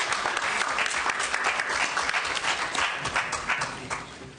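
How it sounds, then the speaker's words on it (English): An audience at a state Senate education committee hearing gives a panel a round of applause, a close, full patter of many hands that holds steady and then thins toward the end. "Round of applause for this panel."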